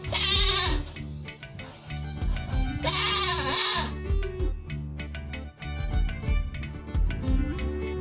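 A lamb bleats at a Tamil-culture Christmas pageant, giving loud, wavering, close cries, two long ones early and further shorter calls later, among other stage sounds.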